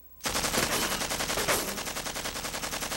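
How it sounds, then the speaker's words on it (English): Automatic weapon fire on a cartoon hunting trip: a loud, unbroken burst of rapid shots that starts suddenly and keeps up a fast, even rhythm to the end. "That's why we use automatic weapons."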